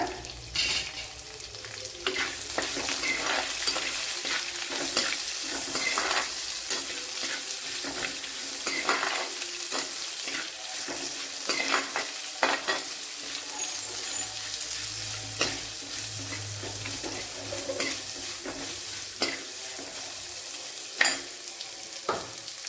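Sliced onion sizzles steadily in hot oil for beetroot varuval, with frequent stirring clicks and scrapes of a spoon against the pan over a continuous frying hiss, no talking.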